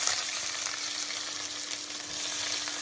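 Onions frying in smoking-hot mustard oil in a frying pan for Kashmiri Wazwan-style meat korma, a dense, even hiss and crackle held close and steady, with a faint low hum underneath.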